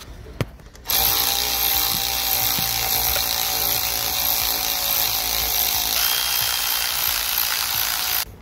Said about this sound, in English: I'm going to get a 7mm spanner or 7mm little socket ratchet extension